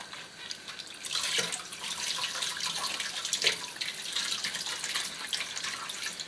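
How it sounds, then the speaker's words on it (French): Water runs steadily from a tap, splashing over the sole of a soft leather slipper to soak it, a continuous close wash of splashing and dripping with no speech. "Il faut que la semelle par contre soit bien imbibée d'eau si on veut pouvoir la retravailler."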